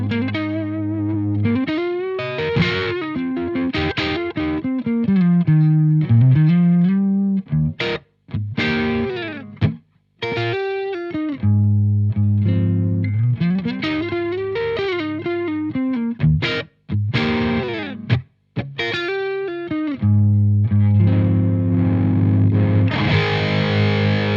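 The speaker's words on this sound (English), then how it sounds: "So this really nice bluesy fat sound with a single coil," Electric guitar with a single-coil pickup through a Synergy SYN-50 amp head, with a fat, bluesy tone, playing sustained bent notes and phrases with short pauses, loud and alone.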